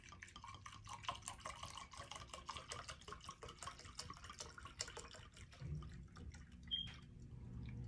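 Vodka pours over vanilla beans into a container, a soft, continuous trickle with light dripping and splashing, close and quiet, thickening slightly toward the end.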